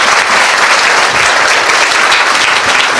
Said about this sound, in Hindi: आइए खुदावन के लिए एक जोरदार ताली बजाएं।